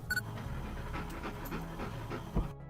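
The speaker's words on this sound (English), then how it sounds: "we brought some animals with us today. Some dogs." A dog pants close by in quick, even breaths that run steadily through the whole moment, with a small click near the start and no voices.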